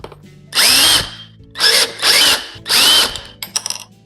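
A cordless power drill spins out two 6mm Allen key bolts on the handlebar risers of a Suzuki V-Strom 650 motorcycle, in three close, loud whirring bursts with short pauses and a few small clicks at the end.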